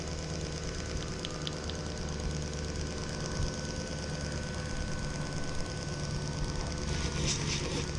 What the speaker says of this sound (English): Now we're going to do some honing.